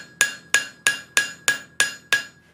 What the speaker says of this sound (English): taking a small cross peen and lengthening these petals